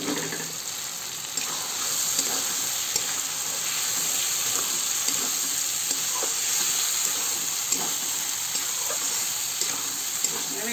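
Fried prawns and potatoes stirred into sizzling Bengali masala for a prawn curry, a steady close frying hiss with a spatula scraping the pan throughout.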